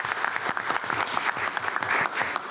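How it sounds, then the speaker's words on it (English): A round of applause from a modest crowd at a board meeting, brisk scattered clapping heard close up for a couple of seconds. "those two and the previous two deserve a round of applause,"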